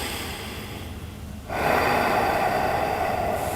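A deep breath taken during a cooldown stretch, heard close up as a long steady inhale or exhale through the nose with a soft airy hiss.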